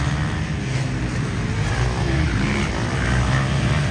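A four-stroke small-bore dirt bike engine roars steadily during a race, a dense, continuous motor drone with no breaks and no talking.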